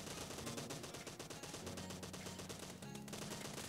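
Rapid automatic gunfire from a gun in the mobile battle royale game BGMI, loud continuous bursts that run almost without pause, with a brief break near the end before firing resumes.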